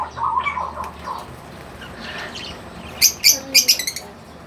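Chicks peep in a quick, high cluster of chirps close by, following some softer rustling and scattered earlier calls during a chick harvest.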